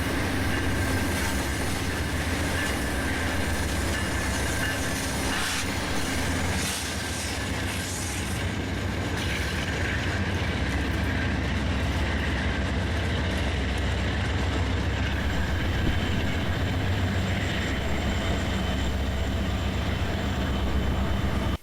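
A freight train hauled by locomotives rolls past in a long continuous rumble of wheels and rail noise, steady and fairly loud, with faint squeals and clatter and no talk.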